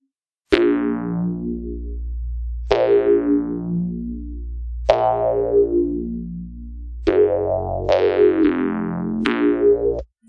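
Bright plucked synth stabs from the AS Player Insomnia preset in an Amapiano beat, six sharp attacks with quick decays over a sustained low bass, the last three coming faster, loud and alone.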